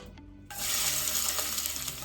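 Onions drop into a hot pot and break into loud, continuous sizzling frying that begins abruptly after a brief quieter moment and holds steady throughout.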